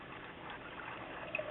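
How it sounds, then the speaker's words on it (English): Celery juice poured through a strainer runs in a steady, soft liquid trickle, with a few small clinks near the end. "we take this celery juice and we pour it right through there"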